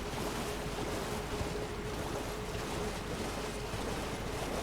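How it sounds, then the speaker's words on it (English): Steady, dense rush of falling water from a waterfall in the video game Elden Ring, a constant broadband roar that holds even and loud throughout with no talk over it. "It's a waterfall. Waterfalls are fun."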